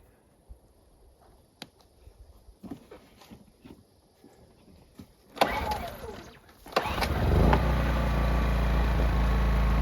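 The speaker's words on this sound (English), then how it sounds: "great little generator. It only is 50 decibels, so it's about as loud as what you talk." A small portable generator rated at 50 decibels is pulled and starts up, settling into a steady loud running drone after a few quiet clicks and handling noises.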